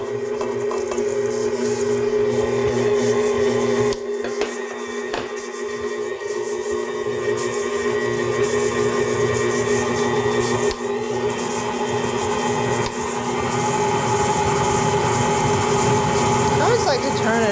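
A VIVOHOME 6.7-quart, 800-watt stand mixer creams sugar and brown sugar with a steady, loud motor whir and a constant hum that holds for the whole stretch, with someone talking over it.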